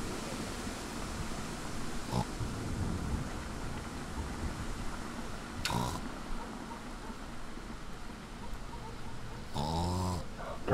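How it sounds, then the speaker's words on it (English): A woman snoring in a video game, slow loud rasping snores spaced several seconds apart over a low ambient background, with no talking. "Oh god, she snores."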